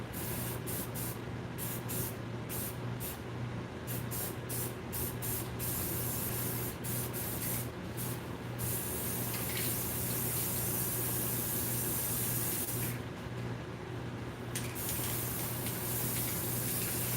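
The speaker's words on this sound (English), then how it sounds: "Multiple angles are important with spray paint, including when you're spray painting hair." A spray paint can hisses steadily while coating a figure, a long loud continuous spray broken by a few brief pauses near the start and middle, close and alone.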